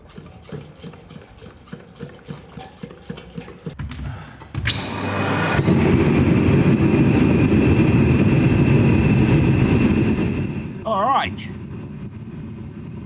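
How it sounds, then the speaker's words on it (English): An ancient paraffin blow heater is fired up: light rhythmic ticking gives way to a sudden, loud, steady roar that holds for several seconds before easing, with a brief squeak near the end. "I'm going to try and fire up the ancient paraffin blow heater"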